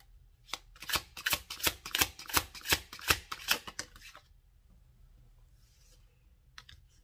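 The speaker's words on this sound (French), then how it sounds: "j'ai des cartes qui se retournent" Tarot cards flick and snap rapidly, like a quick shuffle: a burst of about a dozen crisp, close clicks for a few seconds, then near silence with one faint last flutter.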